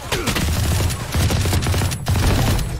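Gunfire in Valorant: loud, continuous automatic bursts at close range, three sustained strings of rapid shots separated by brief pauses, with no talk.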